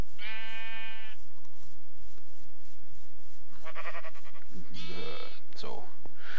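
Sheep in the game Minecraft give several clear, loud bleats, one near the start and two close together later. Someone talks in German between and over them.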